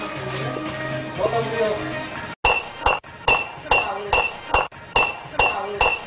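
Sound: glass bottle being smashed against a head

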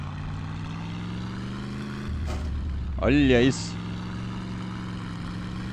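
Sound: V8 tractor engine and gear engaging in video game My Summer Car

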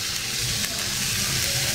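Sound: leftover rice frying in a pan with soy sauce

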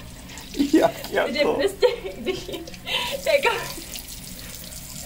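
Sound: running tap water

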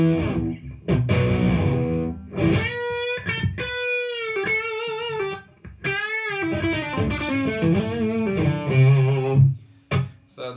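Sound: electric guitar with overdrive pedal

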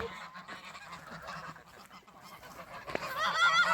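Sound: geese honking

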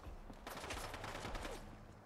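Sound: gunshot in video game Fallout London

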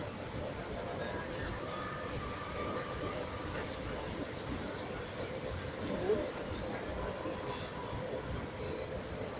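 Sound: electric commuter train moving

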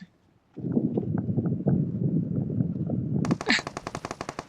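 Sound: gunfire in PUBG Mobile video game

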